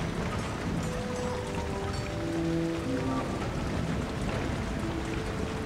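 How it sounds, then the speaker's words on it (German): Rain falling in the video game Ratchet & Clank: A Crack in Time, a steady dense patter and hiss with faint tonal sounds drifting underneath. "Ey, der Regen ist richtig hübsch. Hat es jemals in Ratchet & Clank geregnet?"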